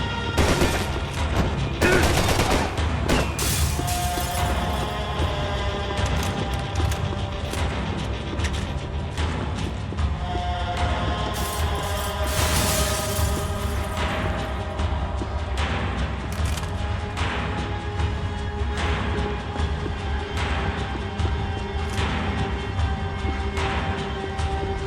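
Gunfire bursts and the crash of loose ceiling tiles in the video game Max Payne 3, with dense, loud shots and booms repeating throughout, sharp impacts and crashing debris near the start and again around the middle, over a steady background score.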